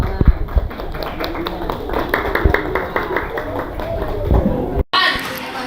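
Classroom of students clapping after a lesson, scattered quick claps over lively chatter and a teacher's voice, ending in an abrupt cut.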